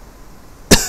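A single sharp cough bursts out near the end after a quiet stretch, loud and close, during a tabletop role-playing game session.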